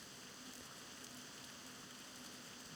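Soft, steady rainfall as ambient weather in the World of Warcraft Classic video game, a constant fine hiss without distinct drops, quiet and unbroken for the whole short stretch.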